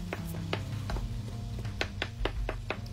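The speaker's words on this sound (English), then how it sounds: "I'm just gonna chop them up in the pan" Whole tomatoes being chopped up in a pan for vegan paella make a quick run of close, sharp knock-like hits against a low background hum.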